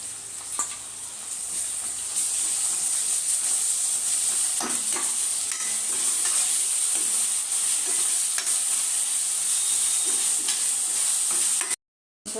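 Ginger garlic paste fries in hot oil for an Andhra-style sanduva (pomfret) fish curry, a steady close sizzle broken by repeated scraping stir strokes, cutting out briefly near the end.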